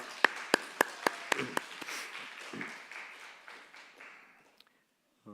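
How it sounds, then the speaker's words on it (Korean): Church congregation at a Sunday worship service giving a round of applause, several sharp near claps at first, then a steady patter that thins and fades out. "하나님께 영광의 박수 올려드리겠습니다"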